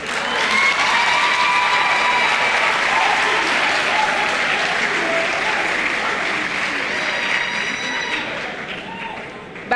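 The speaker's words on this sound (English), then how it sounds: "Please clap for them." Loud, sustained audience applause for the contestants at a school science and maths quiz semi-final, a thick roar of many hands clapping with faint tones above it, holding steady before easing off toward the end.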